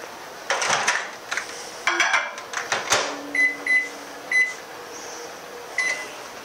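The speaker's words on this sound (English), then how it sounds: "I'm going to pop this in the microwave." A kitchen microwave oven during wok cooking, a series of sharp beeps and clicks as the keypad is pressed and the door shut, followed by a low steady hum of the oven running.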